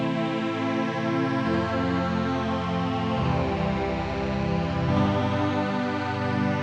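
Clean, predictable techno synth chords play as a sustained, bright pad, with the chord changing roughly every one and a half seconds in a smooth, steady progression, alone and without speech.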